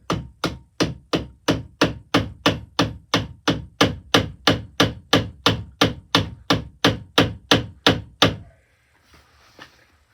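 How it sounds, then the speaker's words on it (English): A cold chisel being hammered into a seam gives about twenty-five loud, evenly spaced metallic blows in a steady rhythm, close up, then stops and leaves faint quiet rustling. "I'm going to get this cold chisel right in that seam there."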